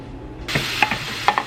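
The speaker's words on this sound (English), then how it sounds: "I'm just going to start by browning the sausage." Sausage browning in a pan for gravy, a steady close sizzle with a few sharp clicks and scrapes of a utensil stirring against the pan.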